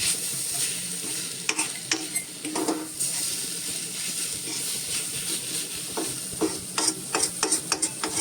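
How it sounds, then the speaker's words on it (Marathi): A mokal pith flour mixture with fresh coconut being stirred in a pan, heard as close scraping and clattering of a spoon against the pan over a steady sizzle, the strokes coming thicker and faster toward the end. "आणि आता पुन्हा एकदा व्यवस्थित हे ढवळून घ्यायचंय."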